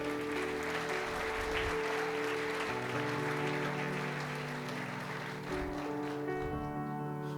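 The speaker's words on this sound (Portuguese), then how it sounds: "Você pode aplaudir o Senhor?" A church congregation applauds during a sermon, sustained clapping mixed with sustained organ or keyboard chords playing beneath, continuing evenly for several seconds.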